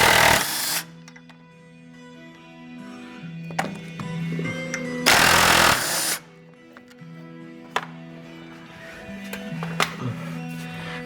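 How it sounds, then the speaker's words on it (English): Bolts loosened with a power tool during a camber kit install on a car, two long loud bursts of impact-wrench rattling with mechanical clunks and tonal whirring between them, no talk. "And then loosen these bolts here."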